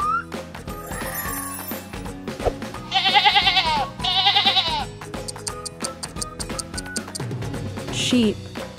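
Goat bleating on a farm sounds in two loud wavering calls in the middle, mixed with background music and other farm sounds.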